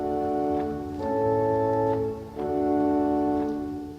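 A pipe organ sounds soft, sustained chords on an 8-foot stopped diapason with a 4-foot flute, mellow and close, held notes changing in three gentle phrases with no speech.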